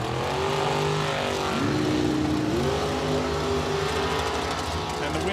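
A dragster and a 1967 Chevy II race at a drag raceway, a loud, sustained engine roar with rising pitch sweeps as they accelerate, under an announcer's voice.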